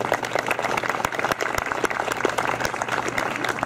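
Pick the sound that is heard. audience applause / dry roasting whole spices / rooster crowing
audience applause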